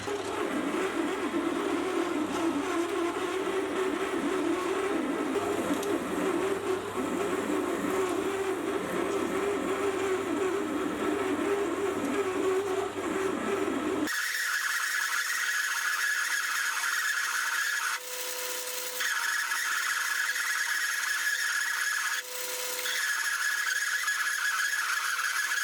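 A lathe spins while a Deming bit drills a bore to about 20mm in a collet chuck blank, a steady whirring machine hum that shifts to a brighter, thinner whine partway through, with a couple of short dips.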